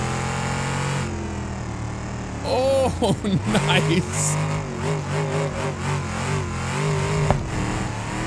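A police car's engine revs hard in the BeamNG driving game, its pitch climbing and sweeping up and down over several seconds, loud and close, while someone talks over it.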